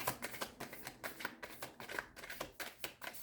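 Tarot cards are shuffled by hand up close, a rapid run of papery riffling bursts in a quick steady rhythm, with no talking.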